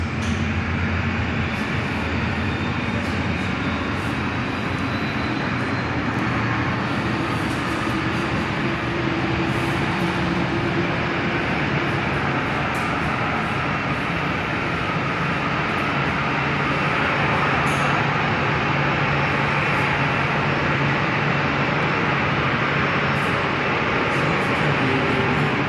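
A Qantas airliner taxiing into a gate at Perth airport, heard from an indoor viewing platform as a steady, broad engine roar and rumble that holds for the whole stretch without pause.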